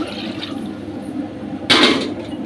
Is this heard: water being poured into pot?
yes